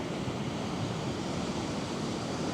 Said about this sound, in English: definitely a lot stronger waves